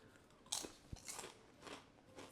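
Ruffles potato chips crunch between the teeth in a few sharp, close bites, followed by softer chewing. The sounds are quiet and come in irregular bursts, with no speech.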